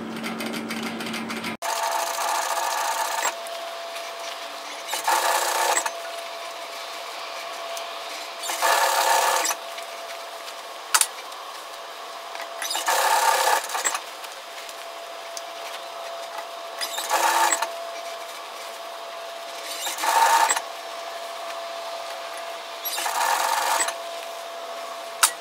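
A sewing machine top stitches a sun hat in short, loud bursts of steady whirring close by. The bursts repeat at regular intervals over a continuous background hum.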